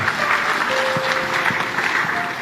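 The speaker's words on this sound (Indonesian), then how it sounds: "Tepuk tangan bapak-bapak" A room of people applauds, a steady wash of clapping with a faint sustained tone running beneath it.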